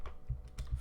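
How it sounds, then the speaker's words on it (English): A few soft keystrokes on a computer keyboard while entering text in flight simulator settings, faint and close with short gaps between presses. "I'm gonna type bush pilot."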